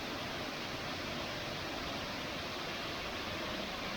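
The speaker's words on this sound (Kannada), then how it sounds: "ಇದೆ ಫ್ರೆಂಡ್ಸ್ ಎಳ್ನೀರು ಫಾಲ್ಸ್." Elneer Falls, a monsoon-season waterfall, roars in a steady, dense rush of falling water that fills the whole clip without pause, loud and close, with no voices over it.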